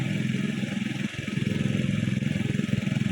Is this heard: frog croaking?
no